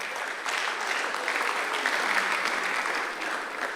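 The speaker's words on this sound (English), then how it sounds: "Come on, clap for her." An audience at a mentorship session applauds steadily to welcome a speaker, the clapping dense and sustained at moderate volume, swelling slightly midway before easing off.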